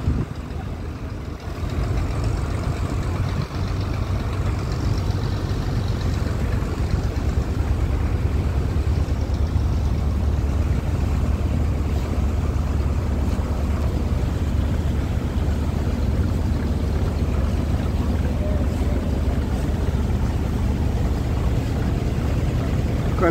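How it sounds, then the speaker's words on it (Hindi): A boat's engine drones steadily and loudly through a river trip from Gosaba toward the Sundarbans, a continuous low rumble with water wash that holds unchanged for the whole stretch, with no talking over it. "ये बोट अच्छी है।"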